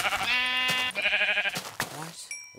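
Sheep bleating in the Minecraft video game, several wavering harmonic bleats in quick succession, loud and close, with a person's voice mixed among them.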